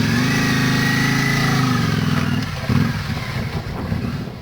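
A Yamaha Virago motorcycle engine runs steadily nearby with a loud, even throb that shifts and roughens partway through, with no talking over it.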